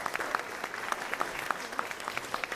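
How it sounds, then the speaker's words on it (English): Applause in a room at an arts luncheon for a senator, a moderate, steady patter of many hands with scattered sharper claps, fairly distant and even throughout. "We give her a round of applause."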